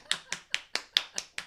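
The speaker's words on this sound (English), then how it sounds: "I'm gonna clap for that." A single person claps seven times in a quick, even rhythm, each clap sharp and close with nothing else heard.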